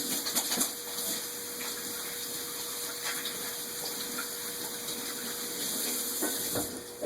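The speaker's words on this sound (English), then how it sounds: "That sound you hear in the background is me washing my hands." Hands being washed under running tap water in a kitchen, a faint steady gushing hiss of water with a low constant hum behind it.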